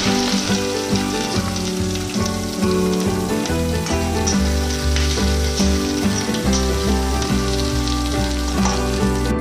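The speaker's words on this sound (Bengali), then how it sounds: "এবার আমি এর মধ্যে দিয়ে দেবো কুচানো পেঁয়াজ," Chopped onions fry in hot oil with whole cardamom and cinnamon, a loud crackling sizzle running steadily under prominent tonal music.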